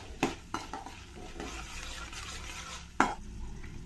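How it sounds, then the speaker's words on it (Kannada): Chana dal and urad dal fry in a pan while a spoon stirs them, with a few sharp scrapes and knocks against the metal over a steady low sizzle. "ಅದೇ ಸ್ಪೂನಲ್ಲಿ ಒಂದು ಅರ್ಧ ಸ್ಪೂನಷ್ಟು ಕಡಲೆಬೇಳೆ, ಹಾಗೆಯೇ ಉದ್ದಿನಬೇಳೆ ಹಾಕ್ಕೊಳ್ತೀನಿ. ಅದೊಂದು ಸ್ವಲ್ಪ ಫ್ರೈ ಆಗಲಿ."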